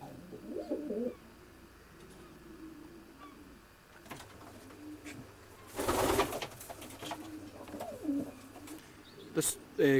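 Soft, low cooing of racing pigeons repeats in short bursts inside a stock loft, with a brief burst of fluttering wings and scattered scuffling noises.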